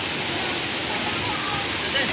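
Inambakan Falls in Ginatilan, Cebu, with clear blue water, gives off a constant broad rushing roar, even and fairly loud, with no break across the moment.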